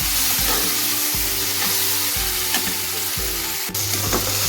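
Shrimp sizzle steadily in hot oil in a wok while being cooked for a shrimp mash dish, with a constant loud frying hiss and repeated scraping stirs roughly every second.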